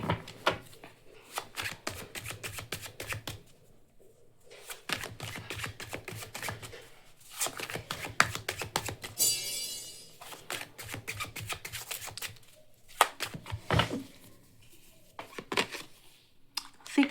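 Tarot cards shuffled in repeated bursts of crisp riffling and flicking, close and fairly loud, with short pauses between rounds and no talking.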